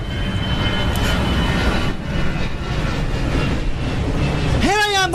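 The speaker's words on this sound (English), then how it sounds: "He saw a big plane." A big airplane flying overhead as a comedy radio show sound effect: a loud, sustained roaring engine drone for several seconds, followed at the end by a rising whistling tone.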